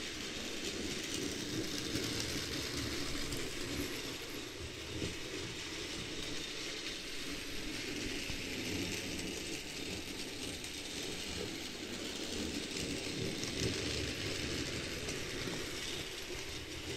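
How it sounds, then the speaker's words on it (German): Cheap toy model train running on its track with a gear-like drive, producing a constant whirring, ratcheting clatter that holds steady and fairly close throughout, with no voices. "auch diese Zahnradähnliche Technik funktioniert ganz gut"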